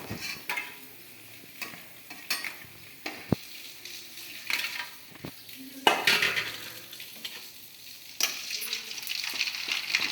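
Snacks frying in oil in a pan, a steady crackling sizzle broken by clinks and scrapes of a spoon and utensils against the metal, close up and with no speech.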